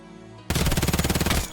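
An MP9N submachine gun fires one sustained full-auto burst of about a second at rapid cadence in the shooter Escape from Tarkov, loud, close and evenly paced, then cuts off.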